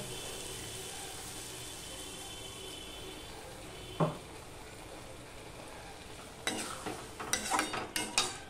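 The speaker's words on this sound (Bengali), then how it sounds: "চিংড়ি মাছ, ভাজা চিংড়ি মাছগুলো আমি দিয়ে দিলাম।" Fried prawns added to a simmering potato curry and stirred, a faint, steady low bubbling hiss broken by a single scrape and then a quick run of clinks and scrapes of a utensil near the end.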